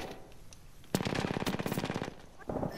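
Rapid automatic gunfire in the Apex Legends video game, a dense fast burst of shots lasting about a second, then a shorter burst after a brief pause, fairly loud.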